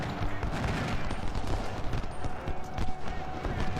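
Troops exchange gunfire at the Battle of Chancellorsville in Ultimate General: Civil War, a dense, continuous crackle of musket volleys and scattered shots rolling across the field, with talk mixed in over the firing.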